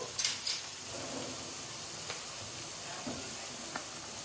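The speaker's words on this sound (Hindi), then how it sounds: "अब मैं डालूंगी इसमें टोमेटो" Chopped tomatoes go into a pan of nearly cooked onions and set off a steady, close sizzle of frying, with a few soft knocks and stirs over the hiss. No one speaks.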